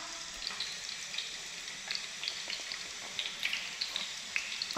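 Potato pieces fry in hot oil in a home kitchen, giving a continuous close sizzle with scattered sharp crackles and pops and no voices.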